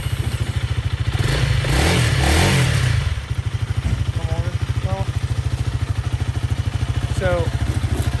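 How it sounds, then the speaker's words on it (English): A 2021 Honda CRF300L Rally motorcycle starting up and settling into a loud, steady thumping idle with a short rev early on, while someone talks briefly over it outdoors. "So first off, I guess we can start the bike."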